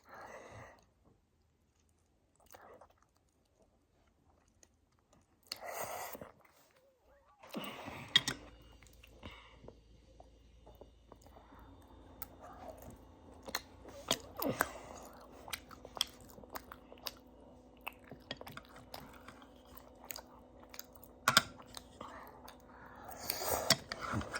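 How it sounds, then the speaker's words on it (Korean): Someone eats Pororo ra-bokki, ramen with rice cakes, with close, wet chewing and biting bursts and soft mouth noises, sparse and quiet at first, then steadier, with faint whispery breaths between. "공격적으로 먹어볼게요"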